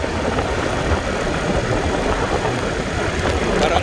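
A Suzuki Skydrive 125cc motorcycle engine, with a freshly cleaned air cleaner, runs steadily at close range, giving a continuous broadband rumble with no speech over it.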